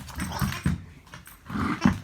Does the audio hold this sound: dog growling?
yes